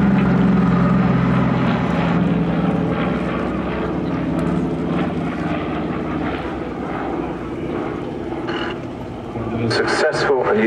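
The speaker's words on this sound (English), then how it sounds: "And now running in from your right, the Norwegian DC-3." A Norwegian Douglas DC-3 propeller airliner taxis at an air show, its piston engines droning loudly and steadily with a throbbing hum, while a commentator talks over the noise throughout.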